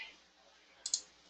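A single soft computer mouse click while sorting contacts in Outlook, a brief, faint tick standing alone in near silence, with a tiny second tick just after.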